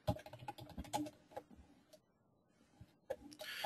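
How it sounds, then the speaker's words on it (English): Rapid typing on a computer keyboard to enter job details, with close clicky keystrokes in quick runs, a brief pause and then more taps. "And job details, you can type in details here."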